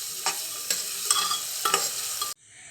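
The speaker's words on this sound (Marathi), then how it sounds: "हे सगळे मिश्रण साधारणतः दोन ते तीन मिनटं भाजून घेतले" Chili, curry leaves and garlic-ginger paste sizzle steadily in hot oil while being sautéed for masala rice, with several sharp stirring scrapes across the pan before the frying noise cuts off abruptly.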